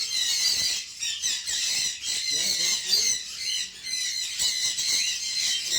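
Lovebirds at a bird farm aviary, many pairs together, give a constant shrill chorus of high squawks and chirps, close and busy, with a person talking underneath.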